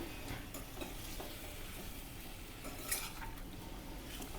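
Farali jeera aloo, potatoes with cumin and amchur powder, being stirred in a pan: a steady low scraping and soft sizzle continue throughout, with a single brighter utensil clink near the end.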